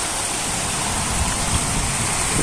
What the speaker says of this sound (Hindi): ये वाला तेज बारिश हो रही है, पूरा अंदर तक आ रहा है।